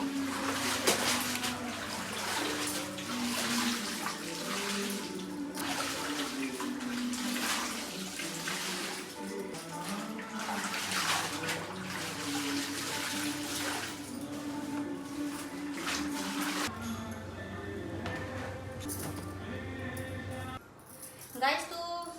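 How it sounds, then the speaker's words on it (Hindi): Clothes are washed by hand under running water, with a continuous splashing and trickling flow and intermittent scrubbing and sloshing, someone speaking over it at times, ending in a brief pause and a final splash. "तो मैं जल्दी से कपड़े धो लेती हूँ।"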